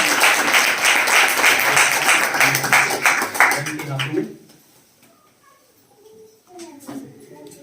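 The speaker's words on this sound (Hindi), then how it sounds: "हम प्रभु यीशु मसीह के लिए एक जोरदार ताली बजाते हैं।" A church congregation claps loudly in a dense, sustained burst for about four seconds, then the applause cuts off abruptly, leaving quieter room sounds and scattered voices.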